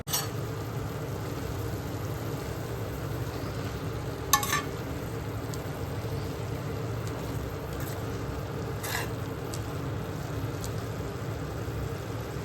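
Amaranth leaves and tomato fry in a pan for a chutney, a low steady sizzle continuing throughout with a few brief sharp clinks of a utensil against the pan.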